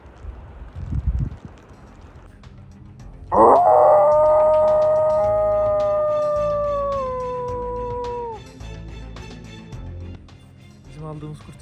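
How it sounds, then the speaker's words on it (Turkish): A wolf howls during a heavy snowstorm near a tent camp: one long, loud, wavering howl that slowly falls in pitch and fades over several seconds, with wind noise and a brief rustle before it. "Kurt da oluyor abi."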